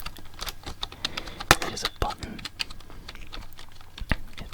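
Fingers tap the buttons of a laptop keyboard in an irregular run of crisp, close clicks, with a brief bit of soft speech over them.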